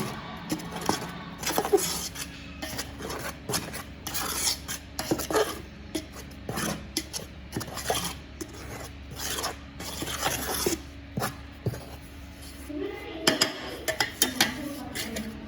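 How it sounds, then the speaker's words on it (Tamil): Flour dough for pinnal sweet mixed by hand in a bowl, heard as close repeated rubbing and rasping strokes with occasional clinks of the bowl, irregular in rhythm and fairly quiet. "நல்லா அப்படியே மிக்ஸ் பண்ணி நல்லா எல்லாம் மிக்ஸ் ஆகிற மாதிரி"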